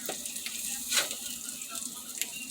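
An egg frying in a pan, a soft, steady sizzle with a few brief crackling spikes, fairly quiet and heard without talk.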